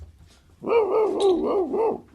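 A voice imitates a dog, giving a run of rough, repeated bark-like yelps and growls up close in a podcast studio, loud and steady for about a second and a half.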